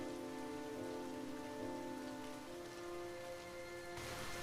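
Steady rain pattering on a surface, a constant dense wash of drops with no voices, holding at an even level throughout.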